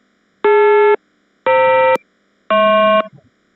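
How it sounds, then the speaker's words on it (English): Three synthetic dual-tone beeps from a signal processing program, each a clean, loud, half-second tone separated by short silences, played alone. "finally we input a sound command to hear the voice of the tone pairs"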